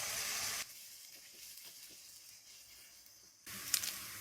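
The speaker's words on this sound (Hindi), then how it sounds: "अब हम इनको फ्राई करेंगे। प्याज को हम हल्का गोल्डन करेंगे।" Chopped onions fry in melted ghee, a faint sizzling hiss that sits louder at the start and end with a quieter stretch in between, and no voices.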